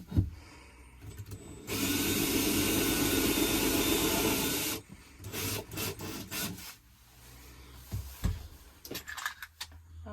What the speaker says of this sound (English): I've set my drill just so that I know it's going to go in about 1/4 inch or so into the other side